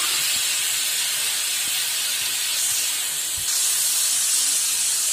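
Tomatoes are dropped into onions frying in a pan for masala vadala pulusu, producing a loud, steady, close hissing sizzle that swells slightly partway through, with faint clinks underneath and no talking.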